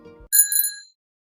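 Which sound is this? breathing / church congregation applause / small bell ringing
small bell ringing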